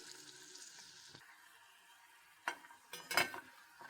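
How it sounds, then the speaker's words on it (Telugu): Masala peanuts fry in oil with a soft, steady sizzle, then a few sharp scraping clatters from stirring near the end; quiet and close, with no voices. "మంచిగా ఫ్రై చేసుకొని తీసేసుకోవాలి, అంతే"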